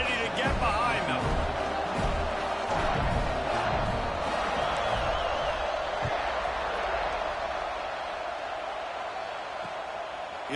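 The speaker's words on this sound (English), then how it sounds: "They're set to kick it off, and this crowd now ready to get behind them." A football stadium crowd roars and cheers steadily ahead of a kickoff, a dense wall of voices that is loudest at the start and eases slightly toward the end, under continuous talk.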